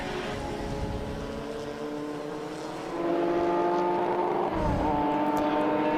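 Race cars circle the Winton track at a festival of speed, their engines droning steadily in the middle distance and swelling louder partway through as the cars pass, with no voices.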